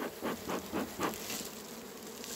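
Honeybees buzz around a hive feeder during a swarm hiving, a faint continuous insect hum with a few soft rhythmic pulses near the start and no talk.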